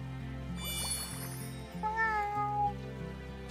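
A cat in the video game Wylde Flowers meowing, one drawn-out meow clearly heard over steady background game music.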